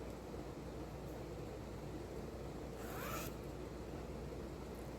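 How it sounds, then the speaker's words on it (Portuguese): A 30 cm invisible zipper is handled while a gathered skirt is sewn, giving one brief, close rasp about midway through over a steady low background hum. "Tô usando um zíper invisível de 30 centímetros."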